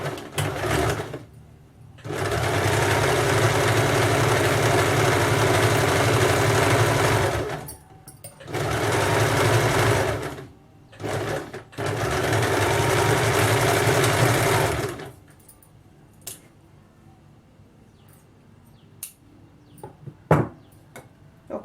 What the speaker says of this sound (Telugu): ఇప్పుడు ఇది ఎలా స్టిచ్ చేయాలో చూపిస్తాను